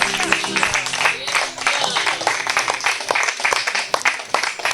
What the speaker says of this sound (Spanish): Un jalel de aplauso